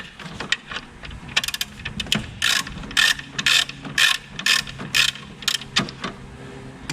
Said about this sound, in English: There's a small wire there and you can take that off with a 10mm socket.